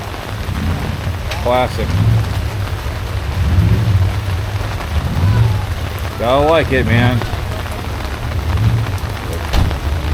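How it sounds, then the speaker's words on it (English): Rain falling steadily at an outdoor classic car show, a constant patter with low rumbling beneath, while someone talks briefly over it. "In the rain"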